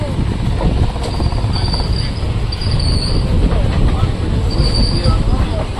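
A train changing tracks rolls along close by, wheels grinding and squealing in high drawn-out screeches over a steady rumbling clatter.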